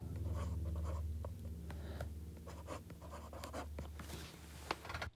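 A fountain pen with a wet nib and Private Reserve Chocolat ink writing on a Paperblanks journal page: close, quiet, continuous scratching strokes with small pauses and taps between letters.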